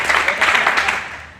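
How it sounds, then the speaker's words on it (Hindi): An audience claps loudly in a brief burst that fades out, with a voice overlapping the applause. "उसके लिए जोरदार ताली बजाओ"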